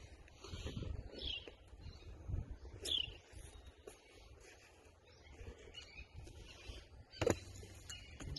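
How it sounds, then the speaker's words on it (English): Faint bird chirps and calls come through a rustling outdoor garden background as mulch is broken up, scattered over several seconds rather than a steady song. "I don't know if y'all can hear the bird or not."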